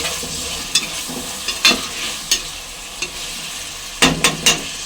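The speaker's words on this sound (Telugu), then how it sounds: "ఇలా చిక్కుడుకాయలు వేసేసుకున్నాక మిక్స్ చేసుకున్నాము" Broad beans fry in oil in a pan under a steady soft sizzle, with a spoon scraping and stirring in short irregular bursts, near and alone.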